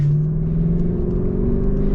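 A 2024 Lexus LC 500's V8 runs with a smooth, steady low rumble, close and fairly loud, holding an even tone with no voices over it.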